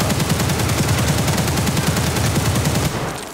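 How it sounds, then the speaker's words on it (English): Gunfire shot through a wall in Escape From Tarkov: a loud, continuous rapid-fire burst that fills the clip and then tapers off at the end. "He's shooting through the wall."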